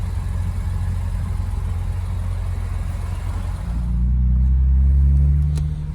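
A modified BMW E46 M3 engine and exhaust idles with a deep, steady, close rumble, then the revs climb to a louder, heavier drone.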